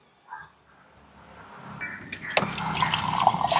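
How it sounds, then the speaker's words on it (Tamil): Water runs into a kitchen vessel, starting with a faint splash and quiet trickling, then swelling into a louder, steady gush that keeps building to the end. "இதுக்கு நாங்க முதல்ல ஒரு பாத்திரத்துல தண்ணி எடுத்துக்கொள்ளுவோம்."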